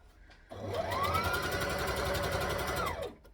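A sewing machine runs steadily for about two and a half seconds, stitching gathered fabric on a skirt, close and loud with a clean start and stop and no talking.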